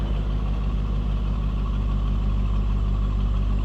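A 2004 Chevrolet Corvette coupe idles steadily with a stock-sounding exhaust, a deep, even engine rumble close to the car that holds constant throughout with no revving.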